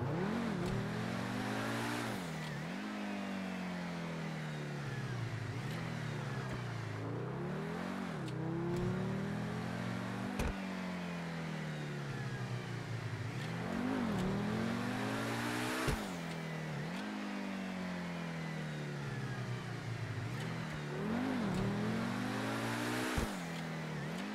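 A Pegassi Ignus supercar engine in GTA V revs through repeated rising gear pulls, each climb followed by a dip as it shifts, a close, moderately loud whine with occasional sharp clicks and no talk.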